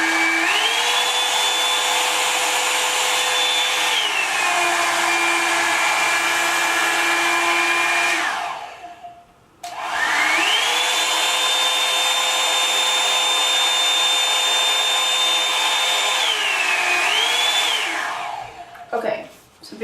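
A Revlon One-Step hair dryer runs loud and steady with a whining motor tone, shifting pitch as it changes setting, then cuts off briefly before running again for another long stretch and shutting down.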